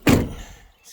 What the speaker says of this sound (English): Doors close good.